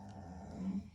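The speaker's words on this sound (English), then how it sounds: "Listen to my dog." Dog making a soft, brief whimper, a low, muffled whine lasting under a second, quiet and close with no talk.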